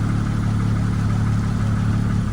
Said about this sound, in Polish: O, wyłączyli silnik.